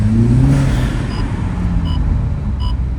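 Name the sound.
Toyota GR Supra 2.0 revving with aFe Takeda intake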